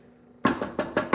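A Cuisinart blender starts up loud and close on whole tomatoes for red sauce, a quiet hum giving way to four pulsing surges of whirring motor.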